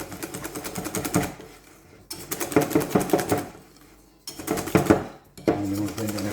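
Batter for a pineapple upside-down cake is mixed briskly in a bowl, giving loud, rapid clattering in three bursts separated by short pauses, with no voices.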